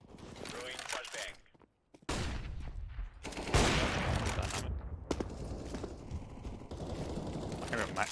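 Bursts of MAC-10 submachine gun fire in a Counter-Strike match on the Anubis map, loud and close with rapid repeated shots, a brief near-silent gap early on, then sustained gunfire and game effects under a player talking.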